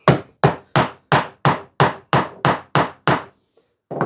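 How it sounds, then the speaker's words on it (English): Hammer strikes driving nails into a wooden block, ten sharp evenly spaced blows in quick succession, loud and close, followed by a short pause and one more hit. "nail our second block at that position there"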